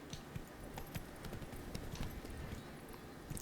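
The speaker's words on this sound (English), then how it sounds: "I want to ride the horse with the armor on." An armored horse in The Witcher 3: Wild Hunt plods along with soft, steady clip-clopping hooves under a low ambient game background, fairly faint and without talk.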